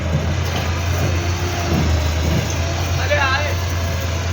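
A 260 tractor engine reverses on slippery ground near a farm shed, a steady low diesel hum running throughout while people talk over it.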